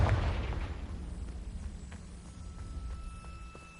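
A Confringo blasting-spell explosion in a Harry Potter video game: one sudden booming burst at the start that rumbles and fades away over a few seconds, with no speech.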